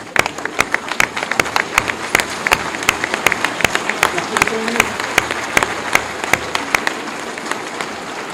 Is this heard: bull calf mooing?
no